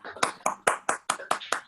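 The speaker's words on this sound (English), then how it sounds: "Let's all clap." Brief clapping for Dr. Alisha Lodha at a physiotherapy meeting, about seven distinct, evenly spaced claps, close and fairly light, sounding more like one or a few people than a full room.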